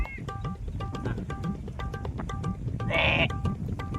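A goat bleats repeatedly in short, wavering calls, moderately close, with a brief higher squeal partway through and quiet background noise.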